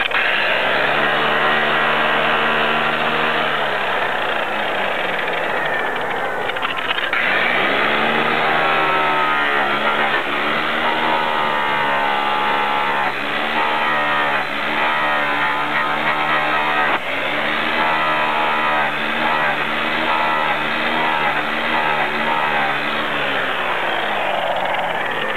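A buffing wheel loaded with rouge polishes aluminum with a steady, loud motor whine that hums throughout, its pitch shifting slightly as the wheel meets the workpiece.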